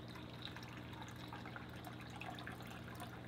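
Water splashes and trickles steadily into a fish transport container, a continuous close liquid pouring sound with a low hum underneath.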